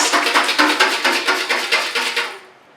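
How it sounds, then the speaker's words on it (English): A small whisk taps briskly against a bowl as 7 grams of fresh yeast is mixed into water for a gluten-free turmeric and black pepper loaf, about a dozen steady, close clinks that fade out at the end. "Then we take 7 grams of fresh yeast, or if you're using dried yeast, a teaspoon. Just give it a little whisk."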